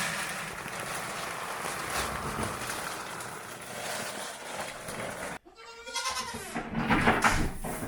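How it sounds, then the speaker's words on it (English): Several goats bleat loudly and eagerly at the sound of a bag being opened, overlapping calls close by, with a brief pause before a fresh burst of bleating near the end. "they sound very excited hearing the bag being opened"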